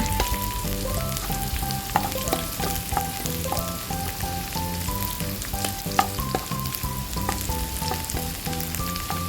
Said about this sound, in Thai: ผัดไปให้กระเทียมสุกก่อนค่ะ